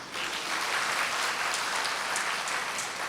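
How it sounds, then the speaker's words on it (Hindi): Audience applause at a talk on yoga and enthusiasm, steady dense clapping from a crowd filling the whole stretch at even loudness. "बजाइए ताली।"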